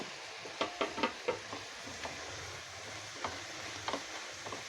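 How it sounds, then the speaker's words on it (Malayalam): Masala for chicken biryani sautéing in a pan, a soft steady sizzle with irregular scraping knocks of a spoon being stirred, fairly quiet and close with no talk. "നന്നായിട്ട് വഴട്ടിയെടുക്കുക. കൈവിടാതെ ഇളക്കുക."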